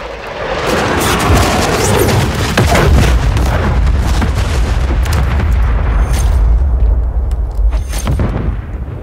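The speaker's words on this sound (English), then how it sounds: "Hostile cruise missile incoming." Cruise missile explosion in the video game Call of Duty Modern Warfare 3, a loud, sustained rumbling blast with crackling debris and deep low-end roar lasting several seconds before easing off slightly at the end.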